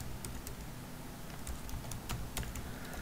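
Steady, continuous clicking of keys as code is typed on a computer keyboard, quick close-up taps at an even pace with no one talking.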